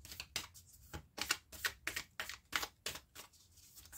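Oracle cards are shuffled and cut by hand in a quick run of about eight crisp riffling bursts, close and fairly quiet, with no voices.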